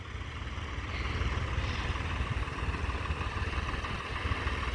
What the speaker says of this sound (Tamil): ப்ளூ டிராக்டர் ஓட ஆரம்பிக்குது.